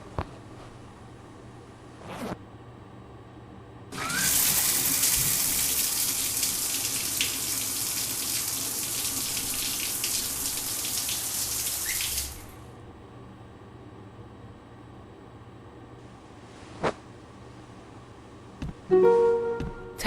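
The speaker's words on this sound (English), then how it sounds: "Task 2, please take a shower." Shower water runs in The Milgram Experiment game as a loud, steady rush that starts abruptly, holds for about eight seconds and then cuts off, with quiet clicks and small noises before and after.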